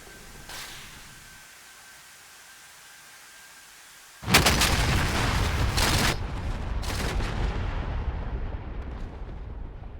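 Bombs explode on ground targets in the DCS combat flight game, a sudden heavy blast after a quiet lead-in followed by rolling booming detonations and a long loud rumble that slowly fades.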